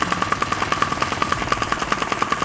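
A VR gun from a Provolver gunstock fires in rapid, evenly spaced bursts, with sharp clicking thumps repeating at a steady machine-gun rhythm. The sound is close and loud, with no talking.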